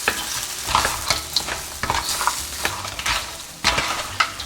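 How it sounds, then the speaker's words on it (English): A utensil stirs mud crab in chilli sauce on a hot plate, making clattering scrapes and knocks over a continuous sizzle in a busy irregular rhythm, close and fairly loud. "Stir it a bit"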